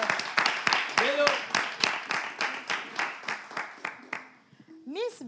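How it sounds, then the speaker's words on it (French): A crowd claps for a female singer in a steady, rhythmic beat, fairly close and loud, while someone talks over it; the clapping fades out and speech carries on at the end. "On va applaudir cette charmante dame à la voix"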